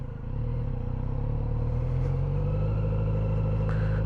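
Kawasaki Z900RS motorcycle engine on a test ride, a steady close rumble with a low, even drone that holds loud and constant throughout.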